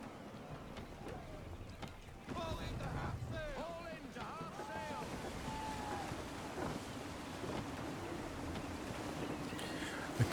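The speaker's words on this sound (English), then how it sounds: "Gusty winds can be difficult to manage." Gusty sea wind in the Assassin's Creed 3 video game, a steady broad rush around a sailing ship with rolling water beneath and scattered high calls layered in the game mix.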